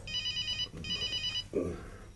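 A telephone in a Turkish TV comedy series rings in two electronic trilling bursts, followed by a brief low thump.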